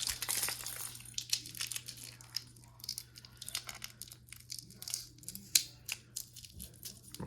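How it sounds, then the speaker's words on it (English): Adhesive tape is peeled off annunciator control keys for a Fire-Lite ANN-80 fire alarm panel, giving close, faint, irregular crinkling and tearing bursts over a steady low hum. "I'll have to get the tape off of these."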